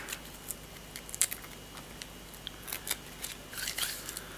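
Packing tape being peeled off a Monoprice Select Mini 3D printer, a run of faint, sharp ticks and crackles scattered over a few seconds, close by and quiet, with no speech.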